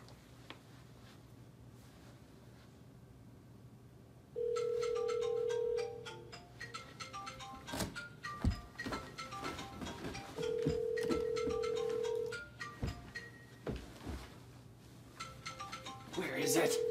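A mobile phone ringtone answers a smart speaker's call, sounding as repeated steady tonal rings, quiet and somewhat distant, separated by rustling and footsteps as someone searches the room.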